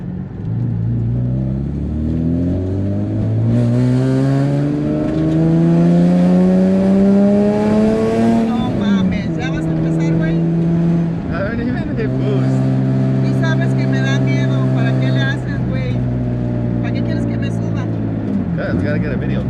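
A single-turbo Nissan 350Z HR engine revs up repeatedly close by, its pitch climbing then falling back, with a steady drone between pulls and people talking over it.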